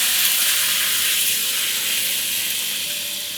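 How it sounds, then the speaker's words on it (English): Green chilies and chopped spinach leaves sizzling in a hot pan for a homestyle palak gargata, a steady loud hiss filling the whole stretch and easing slightly toward the end, with no talking. "Once the green chilies sizzle, time to add in washed and chopped spinach leaves."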